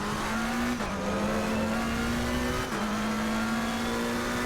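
A McLaren race car engine in a racing video game screams steadily at high revs while accelerating at Monza toward the Parabolica corner, with two brief dips as it shifts gear. The engine note is loud and continuous, with no talk.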